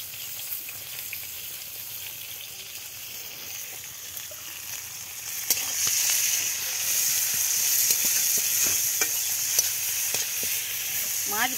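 Fish fries in hot oil, a steady sizzle that swells louder about halfway through, with a few clinks from stirring and no talking.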